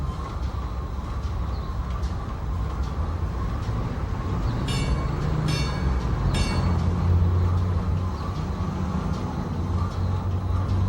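A CPR passenger train runs along the railway toward the Bala wharf station in Muskoka, a steady low rumble of wheels on track with a few brief higher metallic rattles partway through, continuous and fairly close.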